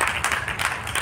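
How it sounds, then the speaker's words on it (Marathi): Clapping from an audience at a felicitation during the closing session of a Mahanubhav literary conference in Nagpur, a steady dense wash of many hands with no talk over it. "जोरदार टाळ्या वाजून या ठिकाणी या सत्काराला आपण त्याची पावती द्यायची आहे."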